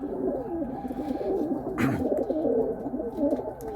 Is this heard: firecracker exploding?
no